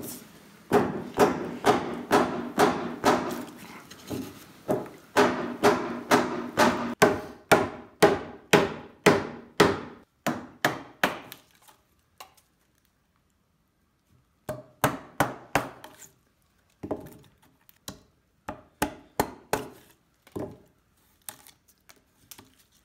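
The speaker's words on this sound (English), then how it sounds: "we're going to use our chisel and we're going to square up the corners and clean up the edges" A steel chisel is struck repeatedly with a mallet to square the corners and clean the edges of a drilled mortise in timber frame floor sill joinery; a steady run of close, sharp wooden knocks, a pause, then more spaced blows.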